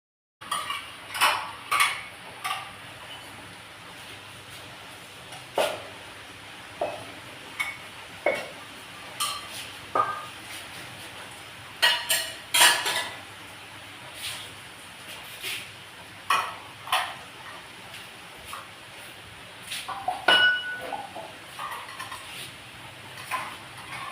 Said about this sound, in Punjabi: ਫੇਰ ਆਪਾਂ ਭਾਂਡੇ ਮਾਂਜਾਂਗੇ